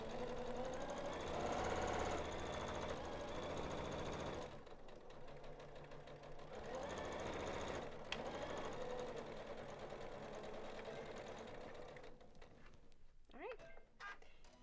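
A Janome sewing machine runs steadily while stitching the seam of a dress, with a motorized whir that stops and restarts in a few pauses as a voice talks over it.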